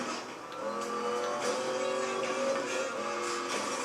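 A Hennessy Venom GT engine in Need for Speed Most Wanted revs loudly and steadily, a dense high-pitched roar with harmonic whine that swells slightly and holds.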